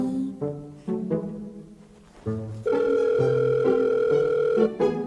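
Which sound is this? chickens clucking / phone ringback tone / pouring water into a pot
phone ringback tone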